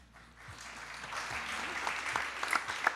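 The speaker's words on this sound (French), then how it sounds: "c'est là que vous applaudissez" An audience applauding at a conference event, clapping swelling from quiet to a sustained, dense round of hands with some sharper individual claps standing out near the end.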